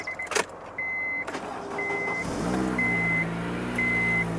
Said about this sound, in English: We start the engine, pressing that button just there.